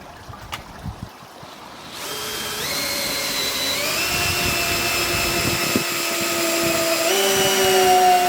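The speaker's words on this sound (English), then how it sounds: "I've countersunk this piece of wood with a bit, like so. Drilled that out." A power drill with a countersink bit boring into a piece of wood, outdoors on a pond-side pergola build: quiet start, then a loud steady whine that rises in pitch in steps as the motor speeds up, continuous and close.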